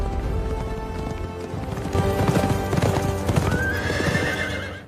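Horses kept in a stable clop their hooves in steady rhythm while one neighs and whinnies, loud and close over a dense, busy background with no talk.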